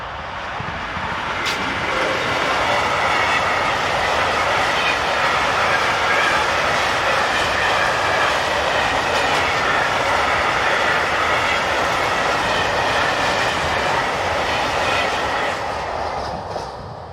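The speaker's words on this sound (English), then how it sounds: "heads west into the station with a loaded coal train bound for the nearby Viszonta power station" A loaded coal freight train bound for the Viszonta power station rolls into a station, a loud sustained rumble of wagons with rhythmic wheel clatter and a brief high squeal early on.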